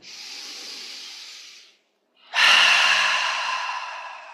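Two long audible breaths during a guided breathing exercise: a steady airy inhale, a short pause of silence, then a louder, rougher exhale, close and alone with no talking.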